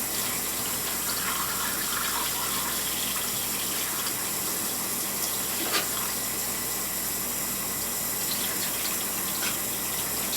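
Cold tap water gushes steadily into a vessel while brewing a Christmas ale, a constant broadband hiss with no pauses and no voices.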